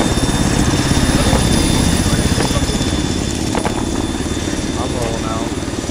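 A helicopter in a military shooter video game drones with a steady, dense rotor chop that fills the scene and stays loud and constant, while people talk faintly over it.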